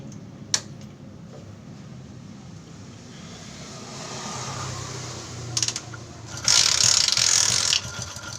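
A Hero Honda motorcycle engine is started without oil, with a sharp click followed by a rising mechanical whirr and a loud rattling burst near the end.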